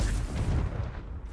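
A Confringo blasting spell cast in the Hogwarts Legacy video game lands as one short, heavy boom with a deep rumbling tail, loud and close, with no talking.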